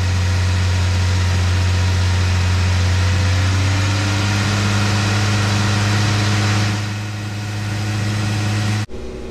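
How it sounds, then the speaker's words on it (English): A Jeep engine idles steadily with the throttle held slightly raised, a loud constant low hum that dips briefly near the end before cutting off abruptly. "I'm going to let it sit here and give it a little more throttle"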